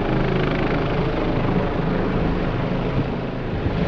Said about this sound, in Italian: E sul corno, boh, gira un elicottero.